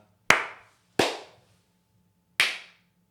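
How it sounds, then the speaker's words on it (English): Three single, sharp hand claps ring out one at a time in a quiet podcast studio, each crisp and evenly spaced with silence between and no talking. "Let's get one clap one at a time."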